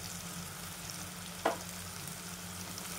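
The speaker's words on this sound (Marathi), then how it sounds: "छान परतून घ्यायचं." Spices and tomato sautéing in hot oil in a pan for a Marathi-style aamti, a steady soft sizzle throughout with one brief clink of a utensil midway.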